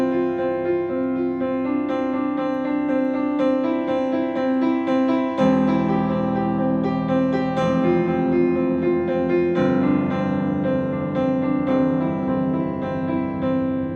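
Solo piano plays a flowing section with the sustain pedal held, notes ringing and blending into a continuous wash of harmony, steady and moderately loud with no voices.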